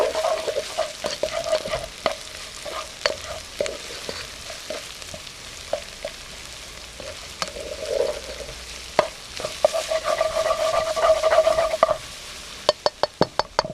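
Lime leaves, curry leaves, chopped ginger and coriander root are stirred in a hot pan for a Thai yellow curry sauce, giving a steady soft sizzle broken by repeated scraping strokes of the spoon, with quicker clatter near the end.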